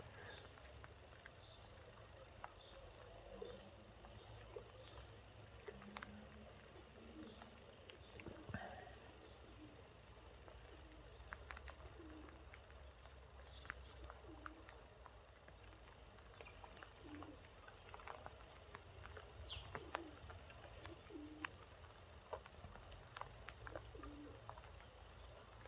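Pigeons coo faintly outdoors in the rain while being fed, soft low calls drifting over a steady wash of rainfall, with scattered light taps and rustles.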